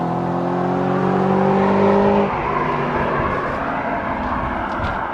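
An Audi RS4 engine, close by, revs hard with a steady tonal drone, then drops off into a rougher downshift rumble that continues loudly to the end.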